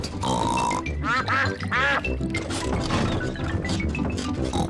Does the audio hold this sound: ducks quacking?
yes